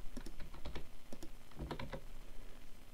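Typing on a computer keyboard, quick clusters of close, crisp key taps in two short bursts with a brief pause between.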